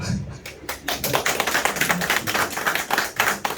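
Applause from an audience at a political lecture in Korea, with dense irregular clapping that swells in bursts and holds steady throughout, fairly close and moderately loud, with no talk over it.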